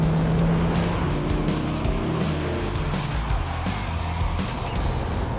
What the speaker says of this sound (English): you need to press the loud pedal. And it just comes on.